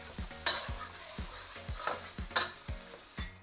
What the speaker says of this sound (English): Now to cook the paste, we're gonna add quite a lot of oil here.